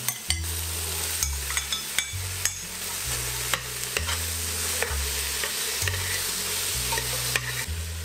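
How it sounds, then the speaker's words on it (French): Aromatic vegetables sizzle loudly in a pan for a French hachis parmentier, with a continuous frying hiss and repeated rhythmic stirring knocks and scrapes close by; no voices. "j'ajoute la garniture aromatique"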